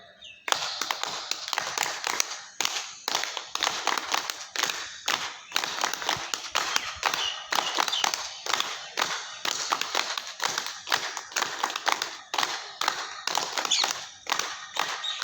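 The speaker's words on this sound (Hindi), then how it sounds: "जोर से ताली बजाइए मेरे साथ में।" A group at an outdoor yoga camp claps hands loudly and steadily, a dense, continuous patter of many close claps that swells and dips slightly in rhythm.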